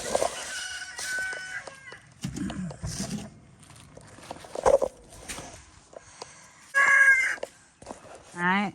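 Chickens being fed cluck and squawk in scattered bursts, with one loud crow-like call near the end, and a voice is heard now and then between the calls.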